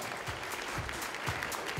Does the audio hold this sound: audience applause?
yes